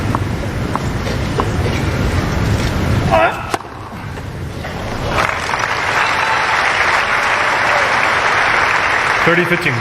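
A Wimbledon tennis crowd at Centre Court applauds loudly during a 2018 match between Edmund and Djokovic, with broad clapping breaking off partway through and then rising again, and a commentator's voice sits underneath.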